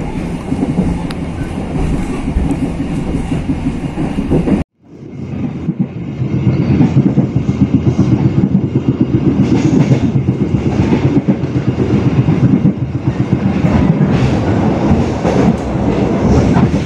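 An Indonesian passenger train rolls along the rails, a steady rumbling clatter with rhythmic wheel clicks heard from inside, briefly cut off near the start before the running noise resumes loudly and continues.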